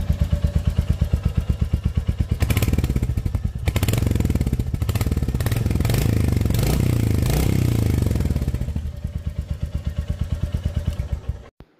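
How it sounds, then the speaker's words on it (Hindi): A Royal Enfield Hunter 350 motorcycle with a 350 cc single-cylinder engine idles with a steady thumping exhaust beat, revs up louder and rougher for several seconds, then settles back to idle before cutting off, heard close with no talk. "तो फाइनली इसका एग्जोट नोट कुछ इस टाइप का है"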